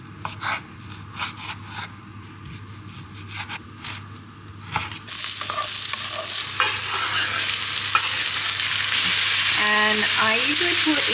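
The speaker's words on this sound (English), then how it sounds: "I'm gonna put the onion in a pan so then I can use the chopping board to chop up the chicken." Onion stirred and sizzling in a pan, scraping and tapping first, then a loud steady frying hiss that continues to the end.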